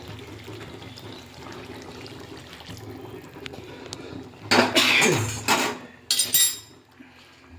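Water poured into a simmering mutton curry gravy with potatoes in a home kitchen, a loud splashing pour in two close bursts after quiet stove background.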